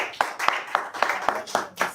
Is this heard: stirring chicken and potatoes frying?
no